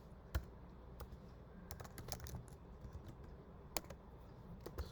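Code being typed on a computer keyboard, a quiet, irregular patter of key clicks with a few sharper taps, close and soft with no voices.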